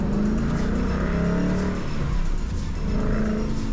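A Ford Mustang GT accelerates hard through a short tunnel in snowy conditions, its engine roar loud and sustained, echoing off the walls with steady rising intensity throughout.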